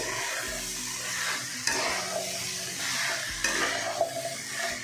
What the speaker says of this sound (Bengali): ওলটা দিয়ে একটু নেড়ে দেবো,